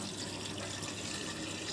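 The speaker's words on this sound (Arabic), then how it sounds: "كملنا بقى الميه برضو دي، الميه دي مغليه ومتبرده" Boiled, cooled water poured steadily into a jar of lemons, a continuous close splashing and gurgling stream with no talk.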